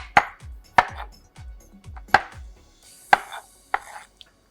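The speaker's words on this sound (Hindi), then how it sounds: "टमाटर के भी आपने इसी तरह से पहले कट इन 2 करना है" A knife thuds sharply onto a cutting board, six crisp chops spaced about a second apart as tomatoes are cut in half, close and clear with quiet pauses between strikes.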